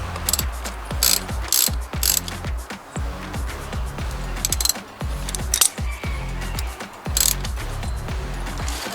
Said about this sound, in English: I'm going to have this wrench here locked in, and I'm going to go ahead and tighten it